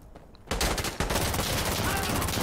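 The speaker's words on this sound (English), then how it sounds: "I don't know who was shooting. Someone far away." Rapid bursts of gunfire crackle continuously in Insurgency: Sandstorm, a modern tactical shooter game, kicking in after a brief quiet start and staying dense and loud throughout, with a soft hint of voice underneath.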